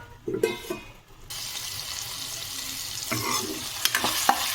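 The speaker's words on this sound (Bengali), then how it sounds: "একদম লো হিটে যতক্ষণ না টমেটোর কাঁচা গন্ধটা যাচ্ছে ঠিক ততক্ষণ পর্যন্ত কিন্তু আমি মশলাটাকে কষিয়ে নেব" Spice paste with tomato sautéing on low heat in a pan, a steady hiss of frying rising after a few soft knocks, with intermittent scraping as it is stirred, close and alone.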